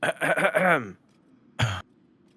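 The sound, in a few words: throat clearing in a video game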